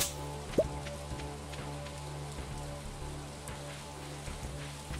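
Soft, steady video-game rain patters continuously on a surface, with a few scattered louder drops and a faint tonal hum underneath.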